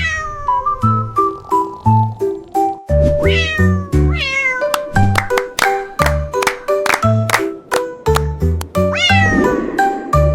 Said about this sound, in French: Le chat miaula doucement